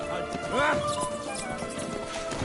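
The horse Roach clip-clops at a run in the video game Witcher 3, with rhythmic hoofbeats under a voice speaking over them.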